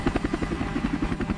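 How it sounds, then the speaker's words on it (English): A helicopter hovering over open water during a search for a missing fishing crew, giving off a steady rhythmic rotor thump with a low droning buzz beneath it, fairly close and with no voices. "Above, a helicopter combed the waters, searching for any sign of the missing crew."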